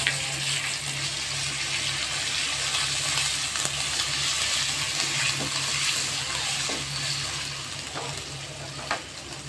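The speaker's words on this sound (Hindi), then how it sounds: "प्याज जब ब्राउन हो चुकी है, इसमें जिंजर गार्लिक पेस्ट इसको मिला रही हूँ" Ginger garlic paste being stirred into browned onions in a frying pan for egg masala, a steady sizzle and fry with occasional faint scrapes, continuous and close, no talk.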